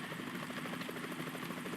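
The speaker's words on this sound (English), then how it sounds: "Is that a chopper I just heard?" A helicopter drones overhead in the Metal Gear Solid 2 game, its rotor thumping in a fast, even pulse for a couple of seconds, loud and steady with no voices.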